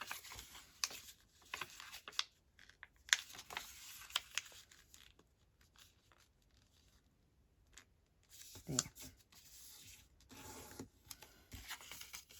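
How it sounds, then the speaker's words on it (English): Paper being folded and creased by hand for a junk journal's secret-window ephemera, with close soft crinkles and scattered crisp taps, quieter in the middle before a burst of handling near the end. "I need to fold it just a little bit"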